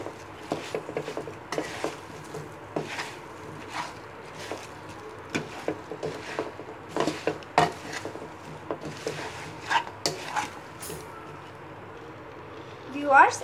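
A spoon stirs homemade amra (hog plum) pickle with five-spice powder in a pan, making soft, irregular wooden scrapes and taps spread across the clip, fairly quiet and close.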